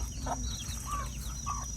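Chickens on a rural Thai farm where ducks and chickens are raised: several close clucks and short squawks over a constant low background hum, with no talk.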